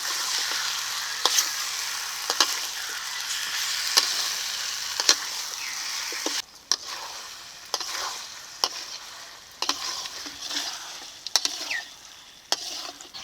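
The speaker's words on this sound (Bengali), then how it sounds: "মাংসটাকে এখন ভালো করে কষিয়ে নেব" Duck meat frying in a pan while being stirred for a spiced curry: a steady close sizzle broken by regular sharp scrapes and knocks of the spoon, with no voices.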